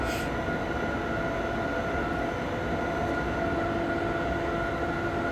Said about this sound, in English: Train brake, going too fast. Full brake everything here.